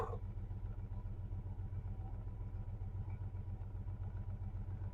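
The engine of a 1986 Chevy S-10 pickup, old and long unused and running on stale gas, idles with a steady low rumble and a fast even pulse, heard close up with no talking.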